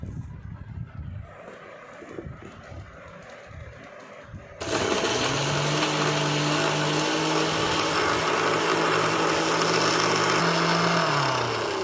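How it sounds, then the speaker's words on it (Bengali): A blender starts up partway through, blending mango, cashews and raisins, and then holds a loud, steady motor whine that drowns out the quieter kitchen sounds before it. "এইটা প্রথমে আমি সুন্দর করে ব্লেন্ড করে নেব।"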